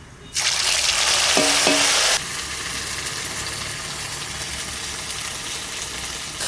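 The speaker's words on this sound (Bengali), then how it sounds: "মশলা কষানো হয়ে গেছে" Ground ginger, cumin and dried chili spice paste frying in hot oil for a Bengali koi fish curry, a sharp burst of loud sizzling that settles into a steadier, softer frying hiss, close up with no talk.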